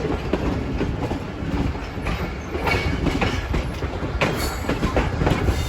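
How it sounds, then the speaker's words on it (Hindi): The Karakoram Express rushes past Momin railway station at about 110 km/h, a loud, close, continuous roar with rhythmic clattering of the wheels over the rail joints and a faint squeal, and no voices. "जो हमारी काराकोरम एक्सप्रेस है वो भी सफदराबाद से निकली है, 110 की स्पीड पर आ रही है।"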